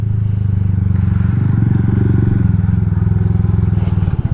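A Honda Super Cub 125 motorcycle rides along at steady speed, its small single-cylinder engine giving a loud, continuous low throb close to the microphone with some wind and clatter mixed in.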